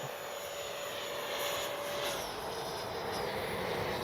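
An FMS 70mm Avanti S V3 radio-controlled jet flying overhead, its steady high ducted-fan whine heard at moderate distance and holding fairly even throughout.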